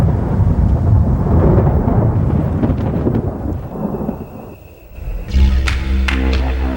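Powerful thunder rumbles and rolls through a tropical storm in northern Australia over steady heavy rain, fading briefly before a sharp, loud crack and booming clap near the end.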